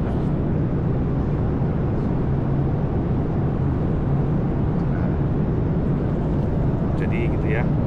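Steady, loud broadband drone fills an airplane cabin in flight above Kalimantan, an unbroken engine and airflow roar that never lets up, with a voice talking over it.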